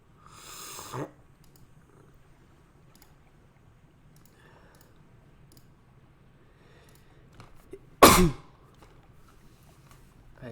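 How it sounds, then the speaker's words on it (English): Two sharp, close sneezes burst out in an otherwise quiet indoor space, one right at the start and another about eight seconds later, with low hum between them. "I literally cannot stop sneezing."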